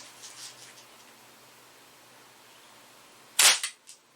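A Daisy Model 74 BB gun fires a single sharp, close crack, followed by a brief rattle, in an otherwise quiet setting with faint rustling at the start.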